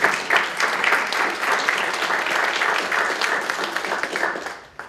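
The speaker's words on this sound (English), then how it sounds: "So if we could give her a round of applause." A commission meeting audience gives a round of applause, a steady wash of clapping from many hands that holds for several seconds before tapering off at the end.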